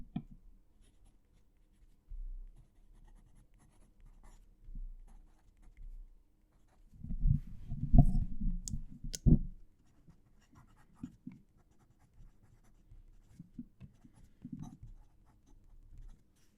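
Fountain pen with Diamine Writer's Blood ink writing on paper, close and quiet: soft scratchy strokes in short bursts, with a denser flurry of writing in the middle.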